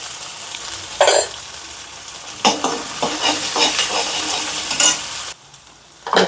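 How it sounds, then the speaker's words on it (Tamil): Onion, garlic, ginger-garlic paste and turmeric sautéing in a pan for mutton kola urundai: a loud hissing sizzle with bursts of stirring and scraping, then a sudden drop near the end before the frying noise returns. "இப்போ இஞ்சி பூண்டு பேஸ்ட்டு கொஞ்சம் சேர்த்து அதையும் வதக்கிக்கலாங்க."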